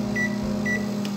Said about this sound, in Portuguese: já tá no micro-ondas, prontinho pra colocar